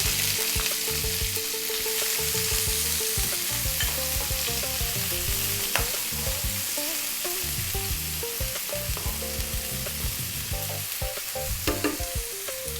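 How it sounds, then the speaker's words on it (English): Chopped onion sizzles in hot oil already crackling with black mustard and fennel seeds for a lamb bhuna curry, a loud continuous fry with rhythmic stirring scrapes across the pan, no voices. "Then we're going to go in with our onion."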